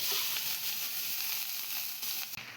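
Thinly sliced potatoes fry in hot oil with a faint, even hiss and sizzle that stays steady, ending with a brief clunk.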